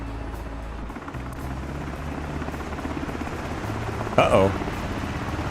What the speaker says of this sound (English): This is a helicopter now, not a plane.